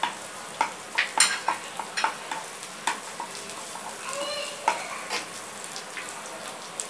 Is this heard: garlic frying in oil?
yes